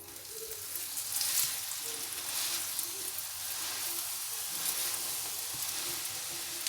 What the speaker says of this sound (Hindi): अब मैं इसके ऊपर तेल डालूंगी, पलट देंगे।